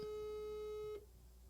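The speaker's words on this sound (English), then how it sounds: "Is that his dial tone?" A phone call over WhatsApp gives a steady electronic tone that holds for about a second, then cuts off abruptly, leaving quiet background.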